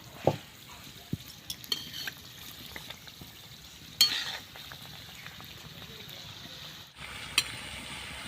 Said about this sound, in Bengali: এবার আমি আনারকলি ভেজে নিচ্ছি তেলে